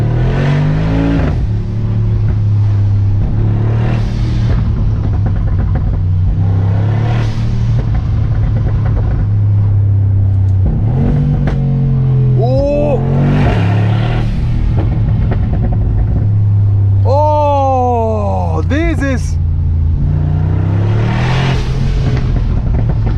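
A 2023 Brabus G900 Mercedes G-Class revs and accelerates in loud, close bursts, rising engine sweeps with sharp downshift blips and pops between steady rumbling stretches.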